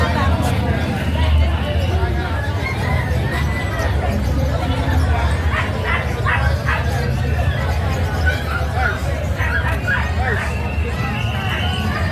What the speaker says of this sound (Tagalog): Ayan po yung Golden Retriever.